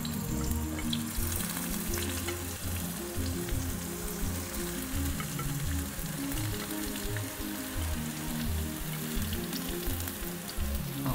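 Peppers fry in hot oil in a pan for a chicken stir fry, giving a steady, dense sizzle and crackle that carries on without pause, close and fairly quiet, with no talk.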